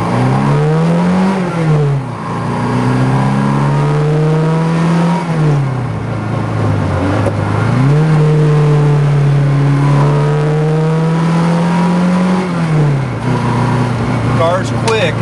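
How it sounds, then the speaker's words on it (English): A 1974 BMW 2002tii accelerating hard along twisty roads, its engine note climbing through gears in repeated rising sweeps with brief dips at shifts, loud and close throughout with steady road and wind noise. "try to kind of do a 0 to 60 right here around these twisties"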